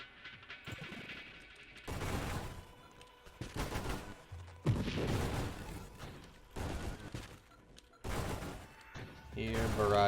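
Rapid barrage weapon fire in the space shooter Nova Drift, dense bursts of crackling shots and explosions coming in waves with brief pauses between them.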